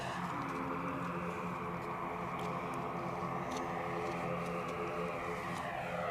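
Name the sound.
turboprop aircraft taking off at Edinburgh Airport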